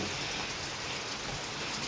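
Heavy, steady rain pours down in a dense, unbroken hiss with no pauses, at a house under construction where a tarp is being put up over plastering work.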